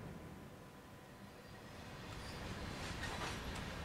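A train passes in the rail simulation game Train Sim World on the Great Western line, its rolling rumble and rail clatter building steadily louder toward the end, with faint squealing hiss on top and no talk.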